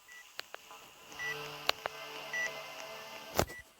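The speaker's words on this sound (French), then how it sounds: "C'est juste un bip le son" Short electronic beeps sound at intervals in a Roblox video game over a faint background, with a few sharp clicks and thumps between them.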